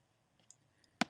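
Two sharp mouse clicks near the end, close and crisp, with a fainter tick just before, as a save button is pressed while setting up a WordPress blog text widget.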